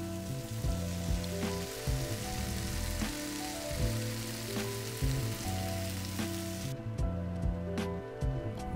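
Seasoned sausage and onion fry in a pan, a steady crackling sizzle with soft taps and clinks of utensils breaking through at intervals, moderately close and without talk.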